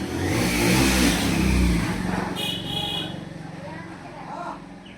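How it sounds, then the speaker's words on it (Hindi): Traffic on a steep, wet mountain road heard from a fast-moving motorbike, with oncoming vehicles: engine revving and road roar, a brief horn blast midway, and someone talking over the noise. "आगे से भी गाड़ियाँ चली रही हैं।"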